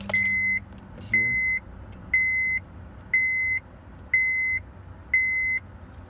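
A Honda or Acura chimes six evenly spaced electronic dashboard beeps, each about half a second long, repeating once a second over a quiet idling engine.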